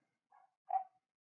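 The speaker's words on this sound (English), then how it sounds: "Sorry about my dog barking in the background." A pet dog gives two short barks in the background, the second louder than the first, in an otherwise quiet indoor room.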